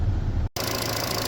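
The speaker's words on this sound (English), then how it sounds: "the engine is quite loud" A Chevrolet Cruze engine idles with the A/C on, giving a loud, steady low rumble with a faint rattle, broken by a brief cut before resuming.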